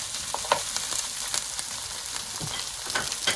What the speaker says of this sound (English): you can tell the onions are really sauteed well